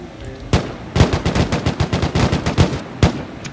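Rapid bursts of gunfire from the video game Rust ring out loud and close, one shot then a tight run of many evenly spaced reports over a few seconds, with a final louder shot near the end and no talking.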